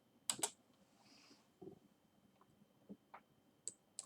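Scattered clicks of typing on a computer keyboard in a quiet room, a few isolated keystrokes spread over several seconds with low background hum.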